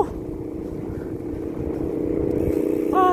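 A motorcycle riding the road toward Kaybiang Tunnel, with a steady engine drone and wind rush that swells slightly louder toward the end as the bike revs.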